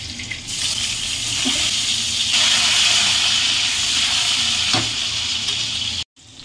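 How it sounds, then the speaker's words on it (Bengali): Potatoes frying in hot oil in a wok-style kadai, a steady loud hiss and sizzle throughout with a brief dropout near the end. "দেখুন তেলটা গরম হয়ে গেছে, আলুটা দিয়ে দেবো।"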